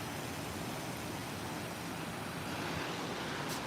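Running water flows into a large pool-like basin, a steady, even rushing hiss that continues unbroken and fairly quiet throughout.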